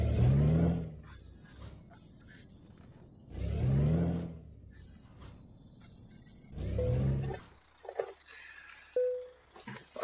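A Freightliner Inspiration truck in Euro Truck Simulator gives three loud engine roars that rise and fall between quieter idling stretches, with some clicks and tones from the game near the end.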